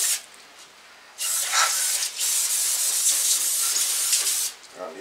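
Water spray rinsing engine parts from a 2006 Hummer H3 3.5 five-cylinder teardown, a close, loud hissing spray that bursts on for about three seconds between quieter moments.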